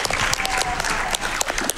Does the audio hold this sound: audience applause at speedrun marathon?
yes